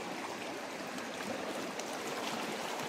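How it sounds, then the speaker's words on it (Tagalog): A strong current of river water rushes through a forest, a steady broadband roar of flowing water holding constant and fairly close for the whole stretch, with no voices. "Lakas ng agos."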